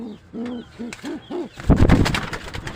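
Pigeons cooing in a short series of soft, low, rounded hoots, followed by a louder burst of fluttering wing flaps and rustling up close.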